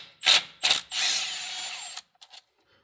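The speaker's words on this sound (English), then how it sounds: "I'm going to take all these bolts loose and try not to drop the valve body." Power tool whirring in short bursts as it loosens valve-body bolts on a 2019 or newer Ram 2500 with a 68RFE transmission: two quick pulses, then a sustained run of about a second, followed by faint clicks.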